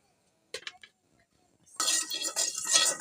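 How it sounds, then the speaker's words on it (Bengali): A lid clinks briefly onto a pot of mixed vegetables (pumpkin, eggplant and papaya) coated in cooked spice paste, followed by a louder, sustained rustling hiss from the cooking. "এখন এক ঢাকনা দিয়ে ঢেকে দিই।"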